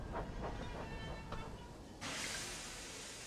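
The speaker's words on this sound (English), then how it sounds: "That's a long train." Long six-coach passenger train running past a station platform, a steady rumble with faint rhythmic clicks, then a sudden rush of hissing noise that stays loud to the end.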